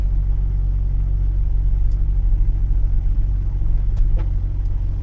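A car heading onto the autobahn on a trip from Italy toward Switzerland, its engine and road noise making a steady, loud low rumble throughout, with faint ticks now and then.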